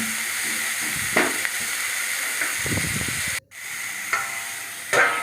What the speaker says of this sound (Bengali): সবগুলো একসঙ্গে সব উপকরণগুলো একসঙ্গে মিলিয়ে ভালো করে ভেজে নিলাম